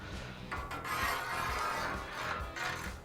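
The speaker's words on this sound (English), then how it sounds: "we rub this cleanly across the entire surface" Oil being rubbed and spread across a Blackstone flat-top griddle surface during seasoning, a steady scraping, rasping wipe that swells and fades in repeated strokes over about three seconds, close and with no voices.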